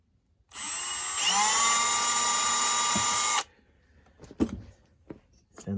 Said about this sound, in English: So I just want to drill this side through into the cavity.